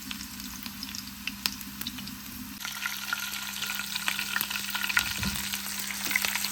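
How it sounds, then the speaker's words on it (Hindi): Chopped garlic sizzles steadily in hot oil in a pan while being stirred for a lentil tempering, with a constant frying hiss and occasional scraping clicks, growing a little louder partway through. "यहाँ पर जो हमारा ऑयल गर्म हो रहा है इसमें हम लोग सबसे पहले डालेंगे वाले हैं लहसुन"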